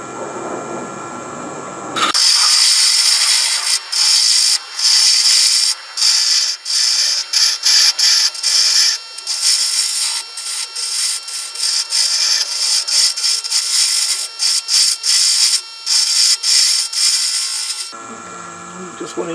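Round nose tool cutting a wooden coffee scoop spinning on a lathe, a harsh continuous high-pitched scraping hiss broken by brief pauses, loud and close, bracketed by quieter room sound at the start and end.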